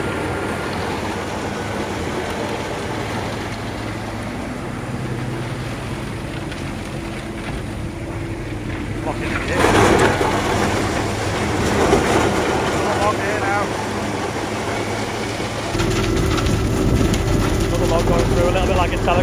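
A Muzmax wood chipper driven by a Claas Xerion tractor chips logs with a continuous heavy mechanical roar that surges partway through as a log feeds in, then settles back to a steady drone.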